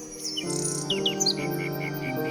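Bright, repeated koel calls chirp and whistle over soft sustained tones.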